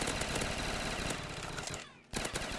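An upgraded Peacekeeper gun in a zombie tower video game fires a long rapid burst, loud and dense, drops out briefly near the end and then resumes.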